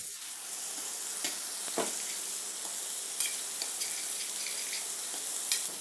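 Mushrooms sizzle and fry in a pan with a steady crackling hiss and a few scattered pops and stirring clicks, close and fairly quiet, with no talking.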